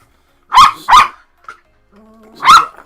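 A dog barks close and loud indoors, two quick barks, then a brief yip, a low growl and one more sharp bark.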